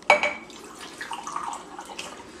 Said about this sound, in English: we're going to add a little bit of water